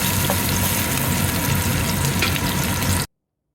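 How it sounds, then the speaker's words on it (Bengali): Green chilli slices sizzle in a pan with onion and garlic already fried, a steady, close hiss of hot oil that runs without a break for about three seconds and then cuts off. "কাঁচামরিচের ফালিগুলো আমি একটু ভেজে নিব।"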